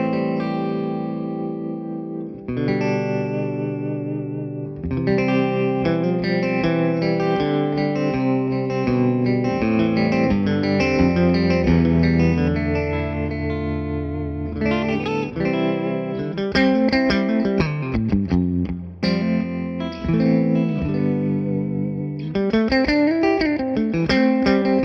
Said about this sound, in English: now we can hear the pure sound of the Imperial getting powered by this and sent into my 2 speaker cabinets